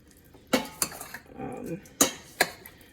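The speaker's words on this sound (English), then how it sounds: "we're just going to stir these up to distribute that salt and the oil through the wings" Raw chicken wings are tossed with salt and oil in a bowl: a utensil clinks sharply against it several times, with soft wet mixing sounds in between.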